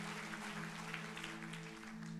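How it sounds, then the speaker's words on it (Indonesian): Congregation applauding during a church service, a steady wash of clapping held at moderate level throughout, with sustained tones from instruments droning beneath it. "Berikan tepuk tangan bagi nama Tuhan"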